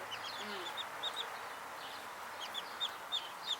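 Brown and black hens in a coop make short, soft clucks scattered across the span, with a higher chirp here and there, fairly quiet and without voices.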